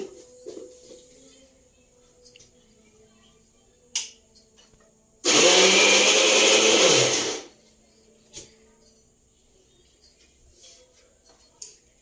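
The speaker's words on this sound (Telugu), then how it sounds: "మిక్సీ పట్టుకొస్తానండి." A mixer grinder roars in one loud burst of about two seconds, coarsely grinding ivy gourd chutney, set between quiet clicks and small handling taps.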